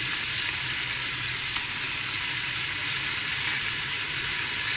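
Beef sizzling steadily in a pan with garlic ginger paste for nihari, a close, continuous hiss of frying with faint stirring and no talk.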